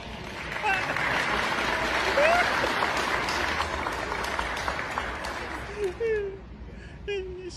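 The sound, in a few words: people applauding a dog's roll-over trick in a shown video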